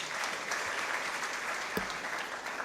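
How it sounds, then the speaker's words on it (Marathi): An audience claps steadily for Pooja at an event, a dense wash of applause from start to finish with no talking over it. "पूजासाठी खूप जोरात टाळ्या."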